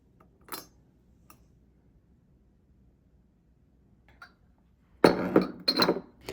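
Glass water containers, one for clean water and one for rinsing brushes, clink softly in a quiet room: a faint tap near the start, another later, then a louder cluster of rattling clinks at the end.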